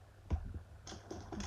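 A marker writes a label on a small plastic bag holding pepper seeds, giving a close, quiet run of faint scratchy strokes and crinkles with short pauses between them.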